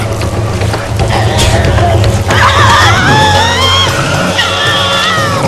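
Tasmanian devils scream aggressively in a forest: loud, harsh, rising and wavering shrieks overlapping one another at close range over a noisy background.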